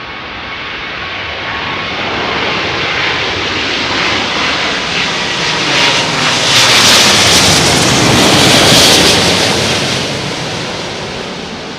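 An airliner arrives at Heathrow Airport in strong wind, its engine roar a broad, continuous rumble mixed with gusting wind that swells louder through the middle and then eases, with no voices.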